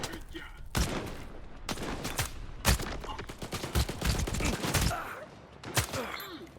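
Rifle shots crack repeatedly at irregular intervals, some in quick pairs, from a rifle in the video game S.T.A.L.K.E.R. 2, mixed with game noise and faint voices in the background.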